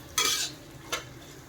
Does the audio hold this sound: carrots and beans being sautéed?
yes